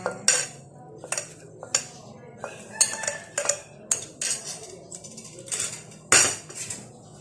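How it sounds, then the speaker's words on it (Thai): Chilies being pounded in a mortar with a pestle for a fermented-fish chili paste, about a dozen sharp knocks and clinks in an uneven rhythm, close and clear with quiet gaps between strikes. "เอาพริกโขลกก่อนนะคะ"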